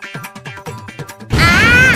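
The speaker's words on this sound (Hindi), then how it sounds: "इस बॉक्स में था पटाखा" A firecracker bursting inside a box in a classroom, arriving as one loud sudden blast that hangs on as a noisy roar after a stretch of speech.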